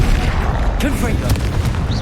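A Confringo blasting spell explodes during combat in Hogwarts Legacy, a dull boom layered into dense battle noise with shouted spell names and other voices over it.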